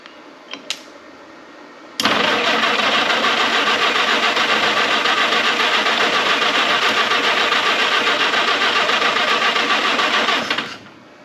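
A historic Ford Willys Jeep engine with a manual choke turns over and catches at once, roaring loud and steady close by for about nine seconds before cutting off, with a couple of faint clicks beforehand.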